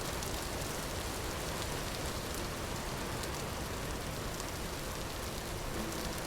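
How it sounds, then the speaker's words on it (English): Steady rain falling in the survival game Vintage Story, a dense even patter of drops hissing on surfaces without pause, close and moderately loud with no voices. "Sitting here making pottery while the rain pitter patters away."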